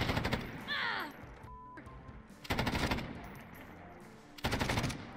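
Automatic gunfire in the video game Warzone comes in three loud, rapid bursts, separated by quieter pauses, with a brief vocal sound near the start.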